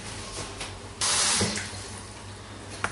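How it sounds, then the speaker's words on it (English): Cold tap water gushes loudly into a pan of artichokes with lemon juice, a steady broadband rush starting abruptly after a quiet second and continuing close and alone to the end. "Then we're going to cover them with cold water."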